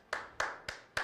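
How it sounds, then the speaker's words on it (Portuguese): Hand claps from a podcast episode closing, four sharp, evenly spaced claps in about a second, close and fairly loud with short decaying tails, no speech over them. "É isso. Palmas."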